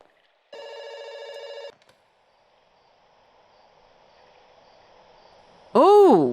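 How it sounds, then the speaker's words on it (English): Telephone ringing in the video game Kentucky Route Zero, a single electronic trilling ring burst lasting about a second, followed by a quiet hum and then a voice speaking. "Is the phone supposed to ring?"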